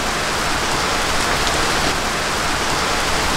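Steady rain falls through the whole stretch, a dense, even hiss of drops on surfaces during the rainy season, loud and continuous with no voices.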